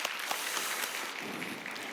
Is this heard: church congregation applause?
yes